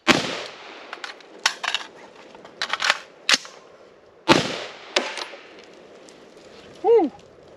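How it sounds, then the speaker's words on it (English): A rifle fires a magazine of M81 rounds at a slow, deliberate pace. The sharp, cracking shots come singly with uneven gaps, about eight in all, and a short vocal whoop follows at the end. "We're gonna shoot one mag."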